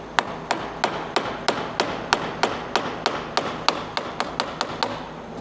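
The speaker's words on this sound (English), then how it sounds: "Get a larger flat blade and a hammer, and I come right on that flat." A hammer strikes a large flat-blade screwdriver to pop a radiator hose off a Ford 6.7 diesel: about seventeen sharp metallic taps in a steady, even rhythm, close and clear with no talk.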